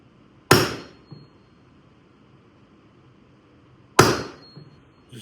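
Two loud, sharp hammer blows land a few seconds apart, close by, while a Pendleton blanket is fitted as a custom seat cover, with quiet room tone between them.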